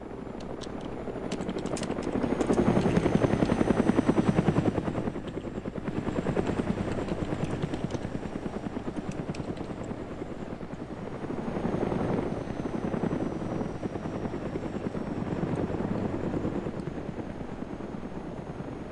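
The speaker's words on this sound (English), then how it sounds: "Couple choppers up here now, bro. Black Hawk and the Huey." Black Hawk and Huey helicopters flying overhead in the game DayZ, a steady chopping rotor drone that swells louder, eases off and returns, with no talk over it.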